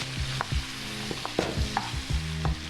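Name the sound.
vegetables being stir-fried over high heat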